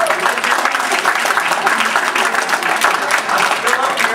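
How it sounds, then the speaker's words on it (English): Steady audience applause fills the room during a live number-guessing game with an audience member, dense clapping at constant strength from start to finish with no voices. "Give him a round of applause."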